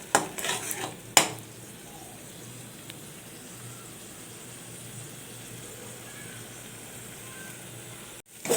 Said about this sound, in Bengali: এবার পুরো পেস্টটাকে নিয়ে ভালোভাবে ভাজতে হবে